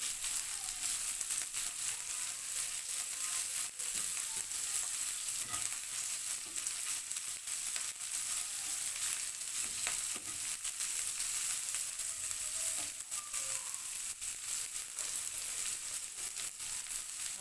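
Shredded cabbage sizzles and fries steadily in a hot pan for vegetable spaghetti, a constant hissing crackle with occasional stirring, close and alone with no talk.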